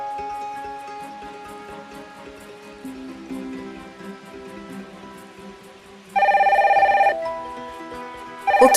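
A telephone rings in The Sims 4, in two loud bursts of electronic ringing near the end, over soft background game music.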